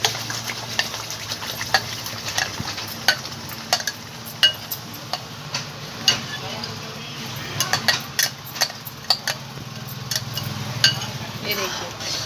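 Ground spinach and masala fry in hot oil in a kadai, with a steady sizzle under repeated metallic clinks and scrapes of a spoon stirring against the pan.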